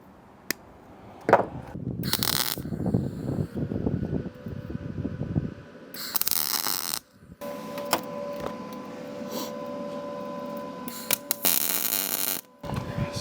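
A Primeweld MIG285 welder tack welding sheet metal, several short loud crackling bursts of a second or so each with buzzing gaps between, and a longer sputtering run near the end, close by.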